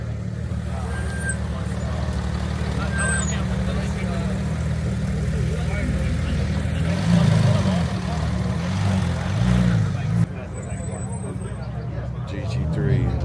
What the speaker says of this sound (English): GT2 RS, another GT3 coming down the street.